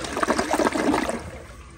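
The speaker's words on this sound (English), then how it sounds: "so here is a flush" A new 2023 black Kohler Cimarron Revolution 360 toilet flushing, a brief close rush and trickle of water that fades away within two seconds.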